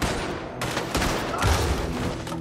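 Rapid gunshots ring out in Red Dead Redemption II, a loud, close volley of several sharp cracks fired in quick succession with no talking over them.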